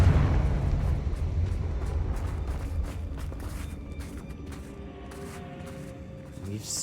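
Confringo spell explosion in Hogwarts Legacy: a deep boom already underway at the start, rumbling and slowly fading beneath a low game ambience, with a faint crackle near the end.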